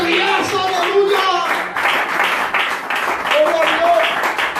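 A church congregation breaks into sustained applause, dense clapping running throughout while loud voices call out over it.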